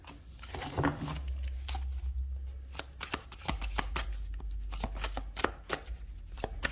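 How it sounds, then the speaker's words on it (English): Tarot cards being shuffled by hand up close, a run of crisp riffling and slapping strokes with soft papery rustles between them. "I'm going to pull some tarot cards."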